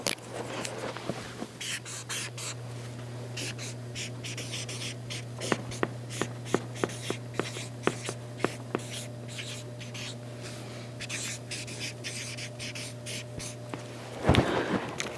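Marker strokes squeak and scratch across flip chart paper in a quiet room, a steady run of short, close writing sounds with a constant low hum beneath and no talking.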